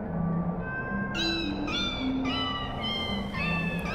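Repeated meows from a cat in the video game Tacoma, about four clear cries spaced roughly evenly over a low humming backdrop, close and distinct with no talking.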